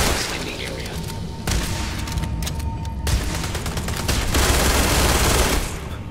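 Sustained rapid gunfire rattles from a Laredo pistol and other weapons during a Starfield robot fight. The loud, dense bursts run almost continuously with brief breaks, and a voice speaks over the shooting.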